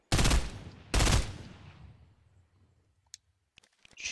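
Minigun in Fortnite ripping off two loud, dense bursts of rapid fire in quick succession, followed by a fading rumble and a few scattered faint clicks.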